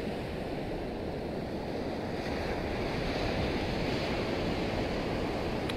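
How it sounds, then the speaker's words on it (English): Ocean surf rolls in with the incoming tide, a steady, loud wash of breaking waves and rushing water with wind buffeting the microphone, continuous throughout with no voices. "as this water moves towards us, the tide is coming in, is what it is."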